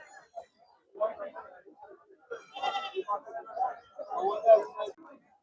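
Goats bleat several times amid a crowd of people talking at close range at the Karad goat market, the calls rising and falling over the chatter.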